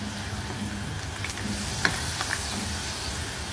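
Pork belly deep-frying in hot oil, with a steady loud sizzle and hiss and occasional pops and scrapes of stirring close by.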